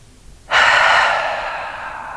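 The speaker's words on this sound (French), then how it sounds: "Si tu as besoin d'expirer pour relâcher la gorge, tu peux expirer par la bouche." A long, loud breath blown out through the mouth during a morning yoga session for lower-back relief, starting abruptly and trailing off steadily as a single airy exhale, close up and with no talk over it.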